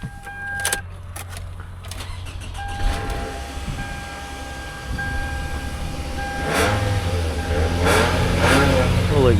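A used car's engine running at a live dealer auction, a low steady idle rumble with rising revs and whooshing passes of noise, building louder toward the end, with brief background voices.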